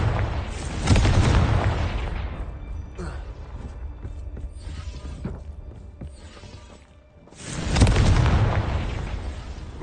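From Hogwarts Legacy, a Confringo fire spell bursts as a loud, rumbling explosion, then fades to creaks and clanks before a second heavy blast swells near the end.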